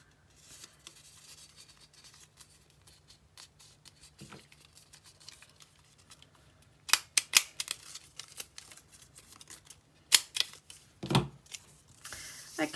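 A hand punch nipping the corners of a folded paper strip for a scrapbook layout: faint rustling at first, then a run of sharp crisp clicks and snips in irregular bursts, close and alone.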